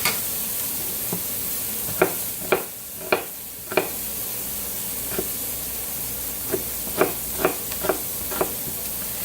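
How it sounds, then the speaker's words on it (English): A quick sauté of vegetables for a Philly cheesesteak egg bake hisses softly in a pan, with a steady low sizzle broken by scattered clicks and taps of a utensil stirring. "it's a really fast little saute, just to get them started"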